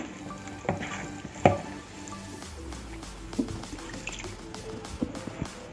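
Water is poured into a flour batter for aripa pola, a Malabar dish of maida and egg, and worked in by hand, giving soft wet squishes, drips and a few sharp clinks against the bowl.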